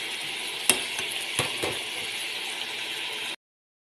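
Garlic, ginger and onion sauté in a pot with a steady, close hiss of frying, broken by a few sharp clinks and scrapes of stirring.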